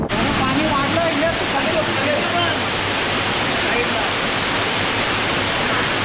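Waterfall beside the Varandha Ghat mountain road, a loud, steady broadband rush of falling water that carries on without a break, close by, with no voices over it.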